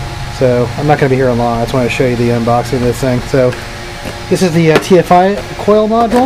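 A computer server hums as a steady broadband whir in a garage, continuous and moderately loud beneath someone talking close up.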